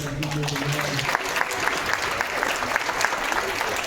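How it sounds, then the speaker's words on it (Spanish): A room full of people applauding, steady dense clapping that carries on throughout, with a brief voice at the start. "le pido también un aplauso"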